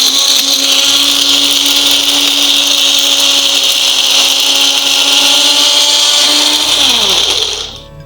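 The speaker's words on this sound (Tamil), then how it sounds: "இப்போ நம்ம இதை அரைச்சிடலாம்." A mixer grinder grinds dried herbal ingredients into a paste for a traditional medicine, a loud steady high-pitched motor whine running throughout and winding down at the end.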